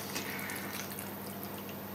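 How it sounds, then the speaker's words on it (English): Rich cider poured over chicken in a dish for Breton poulet au cidre, a steady soft liquid trickle and splash running continuously at close range with no talking. "And of course, we have that lovely rich cider there. So we pour that over the top of there."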